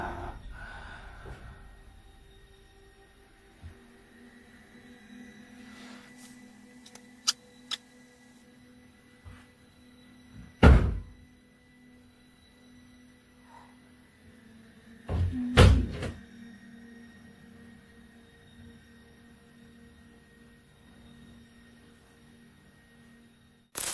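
A kitchen door in a house bursts open and slams with a sharp, echoing bang, followed a few seconds later by a second loud knock. Faint creaks and rattles sit in an otherwise quiet room.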